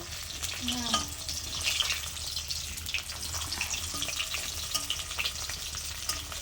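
Fish frying in a pan over a gas stove, a steady close hiss and crackle of hot oil with a few faint clinks, continuous throughout.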